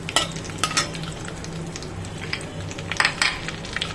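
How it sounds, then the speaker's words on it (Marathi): Cashews and almonds roasting in about three spoonfuls of ghee in a pan, with a soft steady sizzle and occasional sharp clinks and scrapes as the nuts are stirred, close and moderately loud. "काजू बदाम 3 चमच्यामध्ये 3 चमचे तुपामध्ये चांगलं असं हे करून घेते, भाजून घेते."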